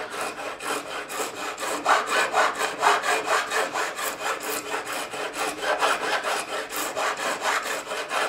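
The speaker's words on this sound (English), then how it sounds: "I'm going to now take the crowning file just to remove any burrs we've left in there" A crowning file drawn over guitar fret edges to remove burrs on a Garrison AG-700 CE acoustic guitar, a close, even rasping scrape repeated in quick steady strokes throughout.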